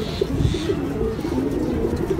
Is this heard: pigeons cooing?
yes